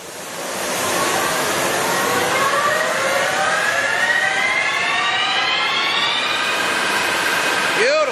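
A heavy-duty LeBlond 28.5 x 144 inch engine lathe spins up toward 1,300 RPM. A steady loud whirring roar carries a tonal whine that rises gradually in pitch, close and continuous, with no voices.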